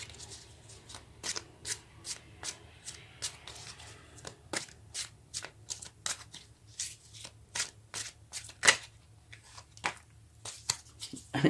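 Tarot cards are shuffled in a rapid series of crisp, papery riffling bursts, close and fairly quiet, with no talking.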